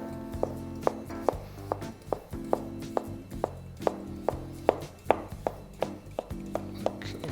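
A kitchen knife slices potatoes thinly on a board for chips, giving a steady run of crisp, close cutting taps at a regular rhythm with a faint low hum underneath.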